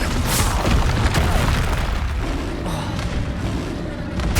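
Confringo fire blast spell during a Hogwarts Legacy battle: dense, loud booming and crackling bursts that overlap steadily, easing slightly toward the end, with other combat effects mixed in.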